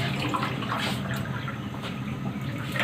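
Water poured into a cooking pot of mutton with green beans and whole spices, a steady close splashing pour running continuously without talk.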